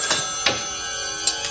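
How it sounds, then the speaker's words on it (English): A telephone rings indoors with a few bright, brief metallic bell bursts repeating at a steady interval over a constant hum. "Get the phone?"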